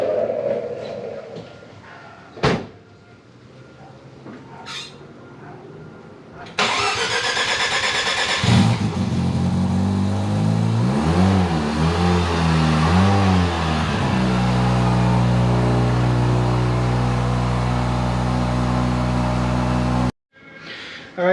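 A right-hand-drive Mazda RX-7 FC3S rotary engine cranks and catches, then revs loudly, settles and holds a steady rough idle nearby before cutting off, with a few clicks and bumps beforehand.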